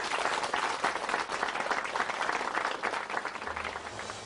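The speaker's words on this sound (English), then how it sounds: "a nice warm applause, please, for Judy and her lovely ferrets" Warm audience applause for a woman and her pet ferrets at a live show, a dense, even roar of clapping from a crowd that carries on steadily throughout.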